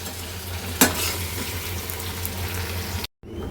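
Egg curry cooks in a pan with a steady soft sizzle and light stirring, a brief scraping clatter near the start, then a short dropout before the sizzle resumes.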